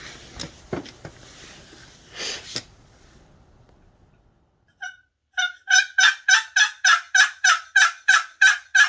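A wild turkey sounds a fast, evenly spaced run of about a dozen loud, sharp calls at close range, following a stretch of muffled rustling and near silence.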